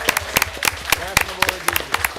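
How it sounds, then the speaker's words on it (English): Scattered handclaps from an audience at a school board meeting ring out in uneven bursts, fairly close, while a voice talks over them. "Can we get a round of applause for our new"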